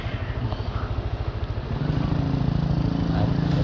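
A motorcycle engine revs up close, a pulsing low rumble that climbs into a steadier, louder drone halfway through.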